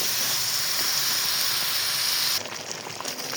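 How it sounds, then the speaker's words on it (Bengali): Drumsticks (moringa pods) frying in mustard paste and spices give a steady, close sizzling hiss that runs continuously, dropping to a softer level partway through. "এই যে সজনে ডাঁটাটা কিন্তু ভালো মতো কষিয়ে নিচ্ছি মশলার সাথে"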